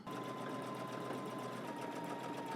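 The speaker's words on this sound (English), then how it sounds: "let's head to the machine, do the top stitching, and we'll continue" Sewing machine top stitching a jacket seam, a fast, even mechanical whir with a rapid steady needle rhythm, close and continuous with no pauses.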